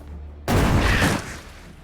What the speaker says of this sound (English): So, throw a grenade.